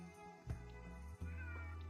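A house cat meows twice, close and fairly loud, with a low steady hum running underneath.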